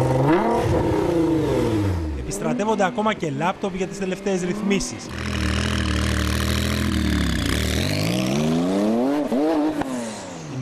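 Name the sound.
modified street-racing cars revving engines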